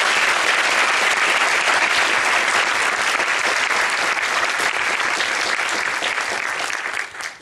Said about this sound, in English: So one round of applause for everybody who's spoken